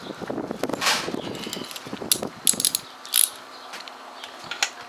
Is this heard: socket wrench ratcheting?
yes